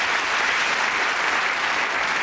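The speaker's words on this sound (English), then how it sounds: "A round of applause," A studio audience at a comedy game show breaks into steady, dense applause, many hands clapping together as an even, loud wash of sound without a break.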